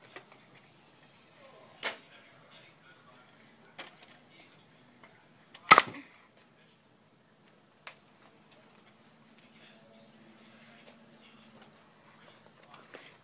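A Nerf foam-dart gun fires once in a drop-and-shoot move, giving a single sharp, loud snap midway through, set among faint clicks, scattered small taps and quiet background sounds.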